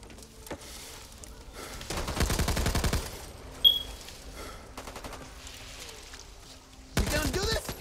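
SMG gunfire in the Back 4 Blood beta, rapid close bursts of automatic shots in several short volleys separated by quieter pauses, with scattered game sounds between them.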